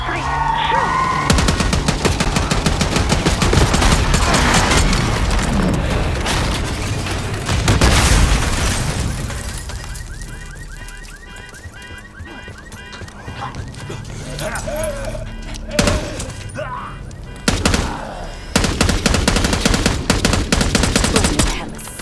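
Black Ops 6 firefight with dense, repeated gunshot bursts and heavy booming impacts that come in waves, loud and close, under shouted voices.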